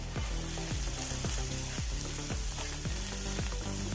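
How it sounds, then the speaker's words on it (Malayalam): Oats upma with grated coconut fries in a pan with a continuous loud sizzle, while a spoon scrapes and stirs in a regular rhythm, striking the pan about twice a second. "ഇത് തുറന്ന് നല്ലപോലെ ഒന്ന് ഇളക്കി കൊടുക്കാം"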